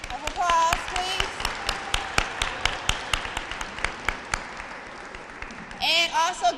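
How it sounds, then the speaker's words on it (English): Audience at a Take Your Child to Work Day event applauding the volunteers: a scattered round of individual claps, fairly close, swelling briefly at the start and end, with voices and children's calls mixed in. "Could you give them a big hand of applause, please?"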